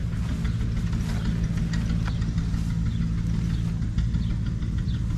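Allis-Chalmers G garden tractor with its engine in the back, running at a show: a steady low idle with a throbbing, slightly knocking rhythm close by, light ticks and clatter above it, no talk.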